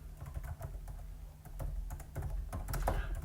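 Computer keyboard typing runs steadily throughout, irregular close clicks and key taps with a faint low hum beneath, no voices.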